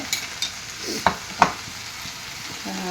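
Egg and ivy gourd frying on a low flame, with a soft steady sizzle and a few sharp stirring scrapes and clacks spaced across the pan.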